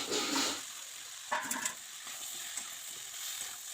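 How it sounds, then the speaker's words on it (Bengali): Potatoes with cumin and bay leaf hit hot oil in a pan, giving a close, hissing sizzle with brief louder bursts and soft stirring scrapes. "একটু জিরে তেজপাতা দিয়ে আলুগুলো তেলের পর দিয়ে দিল"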